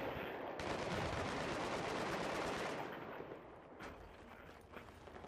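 Sustained heavy gunfire in Battlefield 3 on PS3, a dense continuous rattle of rapid shots close and loud that gradually thins out toward the end.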